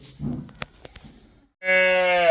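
Freshly born dairy calves on a cattle farm: after a few scattered knocks and shuffles, one calf lets out a loud, sustained bleating call close by.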